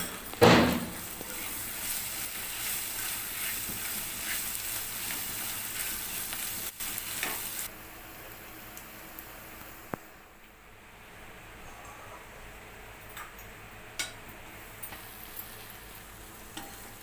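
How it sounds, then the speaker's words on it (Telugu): Egg fry curry being stirred in a frying pan, a steady soft sizzle with scraping stir strokes, a sharp clatter at the start and occasional clicks later. "ఇందులోనే ముందుగా ఫ్రై చేసి పెట్టుకున్న ఎగ్ పొడిని వేసి బాగా కలుపుకుందాం"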